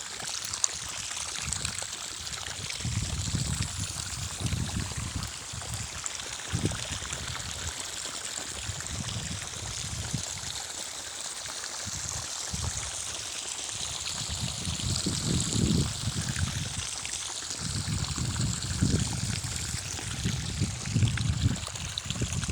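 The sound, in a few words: irrigation water flowing into an onion field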